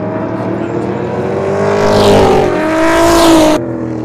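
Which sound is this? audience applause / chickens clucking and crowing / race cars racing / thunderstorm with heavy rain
race cars racing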